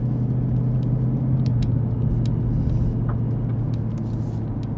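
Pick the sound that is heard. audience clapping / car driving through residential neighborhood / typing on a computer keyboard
car driving through residential neighborhood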